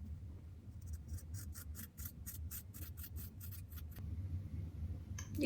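Close, quiet scissors cutting a lock of hair, a quick run of about a dozen rapid crisp snips over a low background hum, then a brief pause and a final snip.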